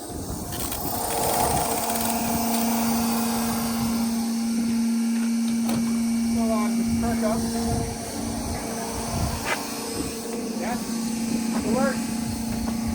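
A fuel pump runs steadily on a farm repair job after two mounting bolts were tightened, giving a constant mechanical hum with a sustained tone, heard near and fairly loud while people talk over it.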